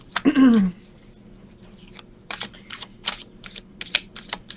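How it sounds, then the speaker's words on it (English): Quick bursts of riffling cards being shuffled, several short rustling flurries in a row after a brief voice at the start. "we've got a good shuffle here"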